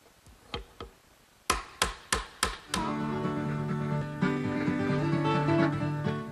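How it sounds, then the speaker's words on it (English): Wooden rails for a Shaker tall chest are glued and tapped into their slots. A few sharp knocks come first, then a quick series of five evenly spaced taps, followed by a sustained ringing hum. "Just tap, gluing them and tapping them in place"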